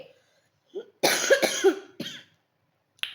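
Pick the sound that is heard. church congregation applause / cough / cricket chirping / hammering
cough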